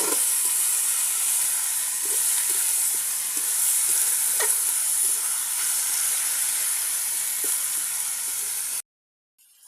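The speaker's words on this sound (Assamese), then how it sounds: "ইয়াৰ তেলৰ লগতে ধুনীয়াকৈ কাঠ মাংসখিনিও ভজা হৈ যাব।" Meat pieces (kath mangsho, a dry meat) frying in hot oil in a pan, a steady loud sizzle and hiss with occasional stirring clicks, running alone without talk until it cuts off near the end.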